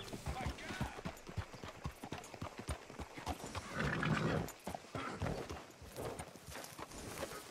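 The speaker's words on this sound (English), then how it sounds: "Hitch your horse up here." A horse in the Red Dead Redemption 2 video game clip-clops at a steady walking rhythm, with a whinny midway through and faint voices in the background.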